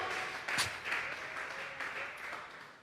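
A church congregation claps together during a Sunday afternoon worship service, a steady, soft patter of many hands that is faint and distant and continues throughout.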